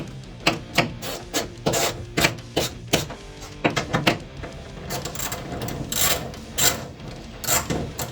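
A ratchet wrench turns the bolts on a classic car's bench seat tracks, giving bursts of sharp, rhythmic clicking, close and fairly loud, with short pauses between rounds of cranking.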